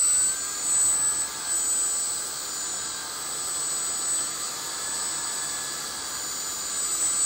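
A homemade EDF turbojet runs at speed with a loud, steady whine and rushing roar, holding an even high-pitched tone throughout with slight swells in level and no speech.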